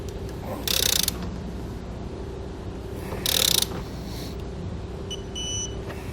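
Two short bursts of ratcheting from a 3/4 inch socket wrench tightening trailer hitch hardware on a 2020 Chrysler Pacifica, each under a second, close and fairly loud over a steady background hum.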